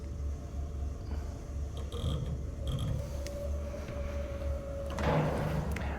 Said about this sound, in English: if I come over to the edge here, I'm going to jog down in Z.